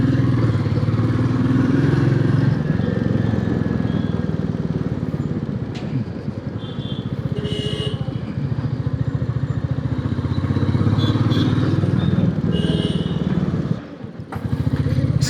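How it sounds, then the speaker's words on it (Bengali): A motorbike rides into an office parking area; its engine drones loudly and steadily with road rumble and clatter, dips briefly near the end, then picks up again. "একদম অফিসের পার্কিংয়ে গিয়ে বাইকটা পার্ক করব"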